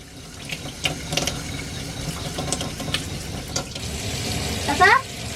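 Water runs steadily from a newly replaced kitchen tap in a camper van, a close continuous splashing rush into the sink with a faint voice briefly near the end.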